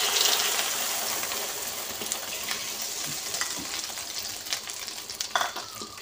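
Eggs fry on a charcoal stove, giving a steady close sizzle and crackle with scattered pops and faint stirring, and no voices.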